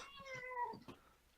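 A cat in a room lets out a drawn-out, wavering meow that rises and falls, close and clear, followed by a short quieter mewing sound, with no talking.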